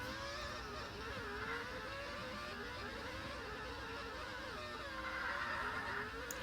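Race cars in a mobile racing game, lapping a wet Portuguese Grand Prix circuit: a continuous layered engine drone with shifting pitches from several cars, steady and unbroken.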